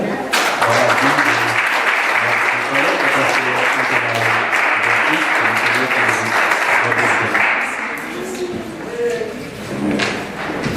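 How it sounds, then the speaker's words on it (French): A church congregation claps together in sustained, vigorous applause over low sustained tones, with occasional thumps, then the clapping tapers off and fades near the end. "Nous applaudissons le Seigneur."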